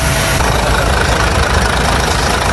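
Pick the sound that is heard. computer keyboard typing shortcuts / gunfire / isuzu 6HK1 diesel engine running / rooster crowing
isuzu 6HK1 diesel engine running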